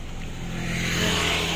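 Road traffic on a busy winding mountain road, a continuous loud close rumble of vehicle engines with a rising rush as a car passes near.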